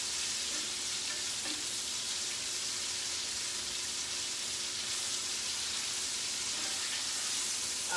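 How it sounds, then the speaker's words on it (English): Food sizzling loudly in a hot pan over high heat while cooking salmon, a dense constant crackling hiss close by, with no one speaking. "you can definitely see we got a big sizzle going."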